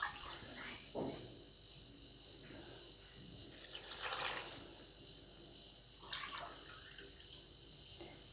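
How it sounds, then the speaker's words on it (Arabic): Water is poured from cups onto pitted yellow Samani dates for jam, with three separate splashing pours at roughly one, four and six seconds over quiet room tone. "هنبدأ نضيف لها مية. هنضيف لها حوالي 3 كوبايات مية."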